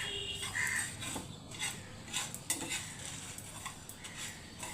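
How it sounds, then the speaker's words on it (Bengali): Whole coriander seeds dry-roasting in a pan, with soft scraping and stirring, light rattling of seeds and occasional metallic clinks from a utensil, faint and close, with no talking. "এবার এটা খুব ভালো করে একটু ভেজে নেব"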